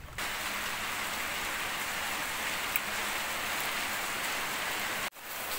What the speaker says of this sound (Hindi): इतनी अच्छी बारिश हो रही है, मतलब चारों तरफ से साउंड आ रही है